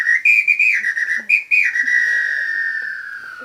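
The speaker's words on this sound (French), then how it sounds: "Et voici un sifflet dont vous allez reconnaître le timbre." A shrill Brazilian apito whistle blown in a few short warbling bursts, then one long sustained note that slowly fades, loud and close.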